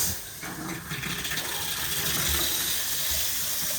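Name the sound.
water running from a tap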